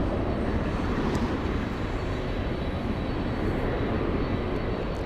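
An Airbus A321 moves along the ground at Los Angeles International Airport, a steady broadband jet engine roar that holds at an even level for the whole stretch, with no voices.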